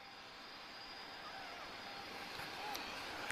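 A Ryanair Boeing 737-800 with CFM56 engines at Lisbon Airport gives a steady, moderately distant jet roar that builds slightly, with no talk.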